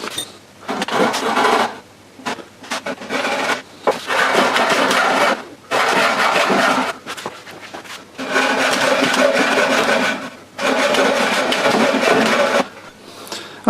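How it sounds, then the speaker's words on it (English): Hacksaw cutting slots partway into a wooden stand, in several separate bursts of steady back-and-forth rasping strokes with short pauses between them, close and fairly loud. "I'm just going to go ahead and cut down about half of or a little over half of the width of the hacksaw blade"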